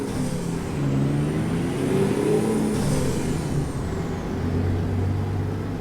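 Heavy truck loaded to about 57,000 lb pulling away from a stop in first gear in American Truck Simulator, a steady low engine drone rising gently in pitch, with a faint high air hiss.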